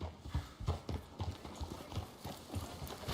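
Horse hooves clip-clop in the video game Red Dead Redemption 2, a steady, close rhythm of hoof strikes at a walking pace with no voices over them.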